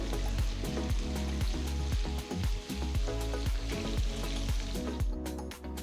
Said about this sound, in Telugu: తర్వాత నేను పొడవగా తరిగిన రెండు ఉల్లిపాయలు వేస్తున్నాను వీటిని కూడా రెండు మూడు నిమిషాలు వేయించాలి